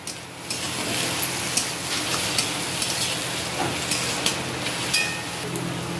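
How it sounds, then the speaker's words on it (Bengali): Chowmein vegetables, chopped tomato and green chilli, sizzle and fry in a pan while being stirred, a steady close hiss with scattered scraping clicks of the spatula throughout. "নেড়ে চেড়ে দেবো।"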